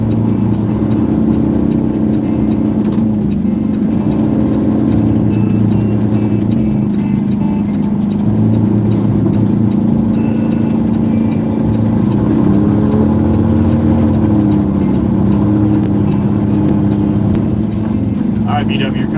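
Steady road rumble while following a black Peterbilt truck at the Jersey Shore, the constant engine and tire drone heard from inside a cab, loud and continuous, with someone talking over it.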